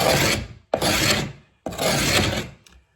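Rough, steady rasping strokes as a decorator's tool scrapes out and squares off a gap while prepping walls, three long close-up passes with brief pauses between.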